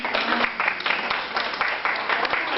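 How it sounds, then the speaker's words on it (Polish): A crowd claps together in a burst of applause, brisk and fairly loud, lasting a couple of seconds. "Brawa dla Kai."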